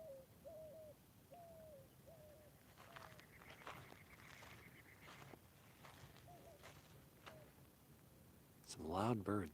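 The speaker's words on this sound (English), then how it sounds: "Some loud birds." Birds call outdoors at a campsite in repeated short, rising calls, with quieter speech and footsteps between them and a louder burst near the end.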